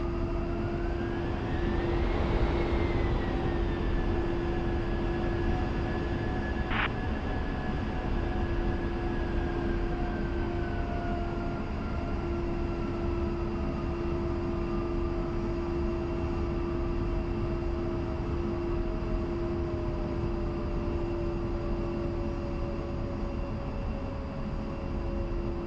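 An A-10C jet powers up for takeoff in the DCS flight simulator on a runway at Nellis, a steady loud turbine roar with a rising then slowly falling whine that holds throughout.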